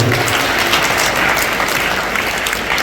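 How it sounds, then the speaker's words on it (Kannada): Loud, sustained applause from an audience at a religious discourse on a saint's life in Kalaburagi, dense and steady clapping throughout with no pause. "ಜೋರಾಗಿ ಚಪ್ಪಾಳೆ ತಟ್ರೆ ಹೊರಗಡೆ"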